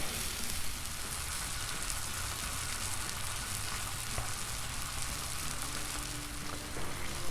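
Filet mignon steaks sear on a Blackstone griddle with a steady, moderately loud sizzle and a dense rain-like hiss and crackle, holding unbroken without speech.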